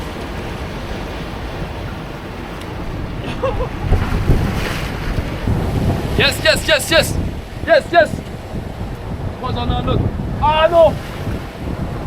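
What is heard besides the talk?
wind and waves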